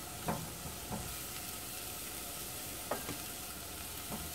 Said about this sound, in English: Coat the onions with the spices.